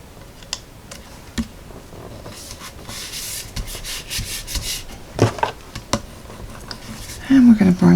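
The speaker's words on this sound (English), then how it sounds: "we're going to burnish that down really good" Paper strip rubbed firmly down onto a handmade Christmas card with a burnishing tool, giving soft repeated scraping and rubbing strokes close up, with a few taps and light clicks and some talking over it.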